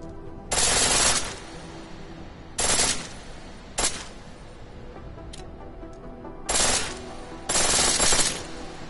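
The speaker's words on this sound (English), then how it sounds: "The pistol in full auto will take down targets fast, but it'll burn through your ammo." Bursts of full-auto pistol fire in Deus Ex: Mankind Divided, five separate rattling volleys of rapid shots spaced a second or two apart, sharp and close against a quiet game background.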